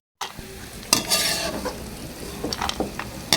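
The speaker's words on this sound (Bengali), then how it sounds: "সব একসাথে দিয়ে একটু ভেজে নিলাম।" Almonds, pistachios, raisins and peanuts fry together in a pan: a crackling sizzle broken by sharp, close scraping and stirring strokes, loudest near the start and again toward the end.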